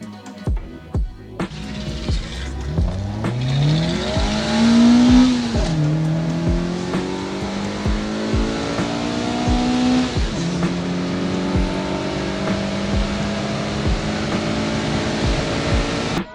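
A car engine roars and revs up through rising gears, with tire squeal and a steady loud motor drone continuing throughout, no voices.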